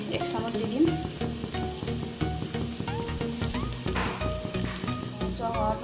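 Chopped onions fry in hot oil inside a pressure cooker, a close, continuous sizzle and crackle with occasional stirring scrapes and no talk.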